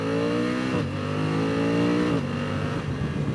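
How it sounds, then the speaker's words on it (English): A BMW F900XR motorcycle engine revs loudly and steadily, then its pitch dips and jumps back up in two quick auto-blips on downshifts, close and continuous throughout. "I like the sound of the auto blip as well when you downshift"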